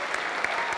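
A dense burst of audience applause for sponsor partners at a teachers' tribute event in Santa Barbara, many hands clapping loudly and evenly throughout.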